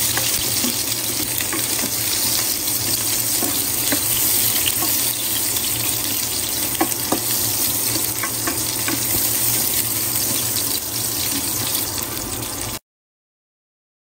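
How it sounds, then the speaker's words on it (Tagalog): Chopped onions sizzle in a pan of hot oil and sautéed garlic for an ampalaya dish, a steady, dense frying hiss filling the whole stretch with no talk over it before cutting off near the end. "Tapos ko na pong igisa ang mga bawang. Ilalagay ko naman po ay sibuyas."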